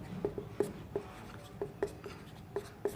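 A pen writes on paper while a maths problem is worked out, making soft scratching strokes with about eight light, distinct taps at an uneven pace, close and quiet.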